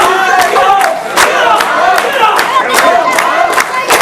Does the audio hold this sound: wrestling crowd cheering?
yes